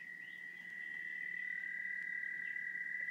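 An American toad gives a long, steady high-pitched trill that holds unbroken throughout, fairly faint and alone against quiet background noise.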